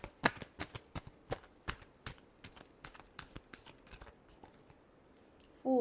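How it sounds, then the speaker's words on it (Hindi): Tarot cards get a final shuffle, a quiet, close run of irregular papery flicks and taps ending with a short louder rustle. "Last shuffle."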